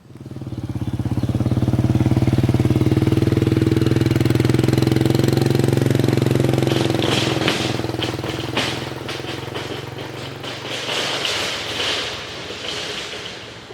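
A motorcycle grinds through mud on a rough road near Pakse, its engine droning loud and steady at close range before easing into a lower, uneven labor with scattered splashing and clattering noises.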